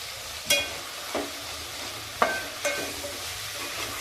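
Finely chopped coriander being stirred into cooking pea pulao, a low sizzle under several sharp spoon scrapes and clinks against the pot, close and without talk.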